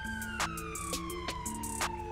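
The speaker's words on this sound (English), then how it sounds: "Somebody's siren is still on too." A police siren in GTA 5 wails steadily with a slowly falling pitch, loud and up close, with a few short knocks and thumps layered over it.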